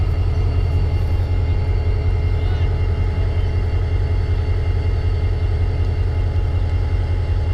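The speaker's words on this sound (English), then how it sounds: "the trains are working over here to the right" Freight trains work in the Norfolk Southern DeButts Rail Yard in Chattanooga. A continuous low rumble and hum of rail activity carries steadily across the yard, without distinct individual events.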